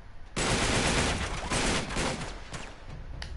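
Sniper fire in the video game Uncharted 3 erupts as a sudden loud burst of rapid shots, a dense fusillade of cracks and echoing blasts that keeps going with sharp single reports near the end.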